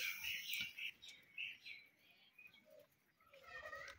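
Color-matched pet pigeons feeding give faint, soft coos and light chirps at a distance, with brief wing flutters and a quiet voice somewhere in the background.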